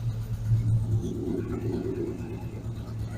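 A 1975 Dodge Dart engine idles steadily with a low, even rumble, close by and moderately quiet, with no revving.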